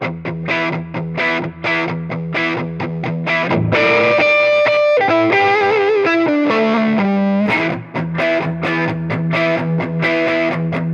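Electric guitar through a Wampler Tumnus overdrive pedal plays chunky rhythm chords, shifts into a sustained lead melody mid-way, then returns to choppy rhythmic strumming. Loud and close, no talking.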